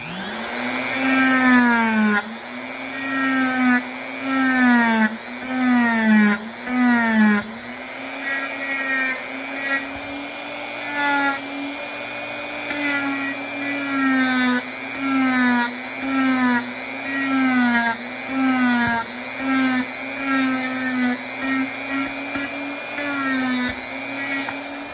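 A Dremel rotary tool whines steadily while grinding a piece, its pitch dipping and rising as it bites into the work in repeated passes, loud and close with no talk.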